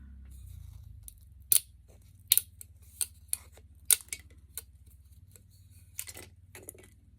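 Scissors snip through craft material for an oversized ornament porch pot stake, a series of sharp, close, crisp cuts spaced irregularly over a quiet low hum, without speech.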